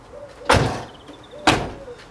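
A barn door on a 2010 VW Transporter T5 van with a Thule 928 bike carrier fitted swings and thuds twice, each a loud close clunk preceded by a faint metallic creak.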